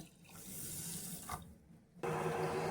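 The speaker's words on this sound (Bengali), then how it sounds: "দিয়ে দেবো এখানে এক কাপ জল" Water from a sink tap runs as a cup of water is filled to pour into a pan for sugar syrup, a steady close splash that briefly dips near the end before a louder gush resumes.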